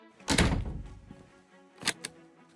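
A door thuds shut in the video game Slay the Princess, one solid close with a short low tail, followed by two softer knocks about a second and a half later.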